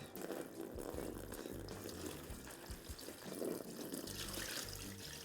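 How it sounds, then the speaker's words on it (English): Warm water runs steadily from a tap into a basin, a continuous splashing rush that fills the whole stretch with no talking. "So now I'm going to be filling the basin with water"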